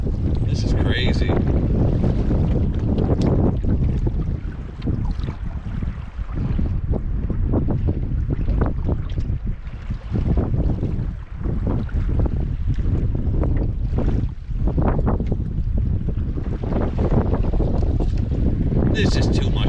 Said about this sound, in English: This is too much wind.